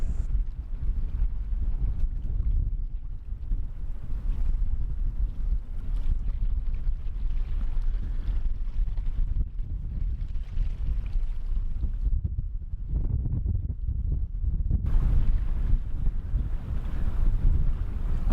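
Strong wind gusts buffet the microphone on a winter coastal visit in Massachusetts, a loud continuous low roar that surges and dips throughout, with no voices.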